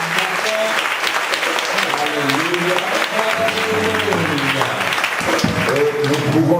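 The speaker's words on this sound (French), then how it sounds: "Acclame très fort." Loud, steady applause from a church congregation fills the room, with voices calling out over the clapping throughout.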